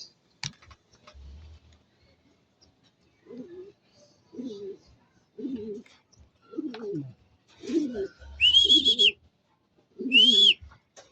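Homing pigeons coo in a series of low, throaty calls at a loft, arriving birds settling in, with a few bright whistle-like chirps and soft thumps in an otherwise quiet setting.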